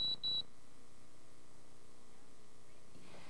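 An Ademco security system keypad gives two quick, high-pitched beeps as the instant key is pressed, followed by a quiet, near-silent room hum.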